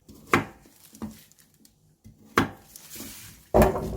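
Knife slicing taro root on a cutting board for a perilla taro soup, giving several separate sharp chops with quiet pauses between them, close and crisp with no talking.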